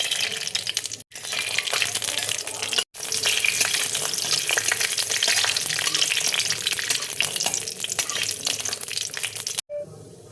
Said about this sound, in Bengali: এবার আমি কাজুটা দেখো ভেজে নেব।